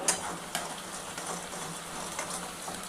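Tomatoes with salt are stirred in a frying pan, giving a continuous soft sizzle with a couple of sharp utensil clicks against the pan and light scraping throughout.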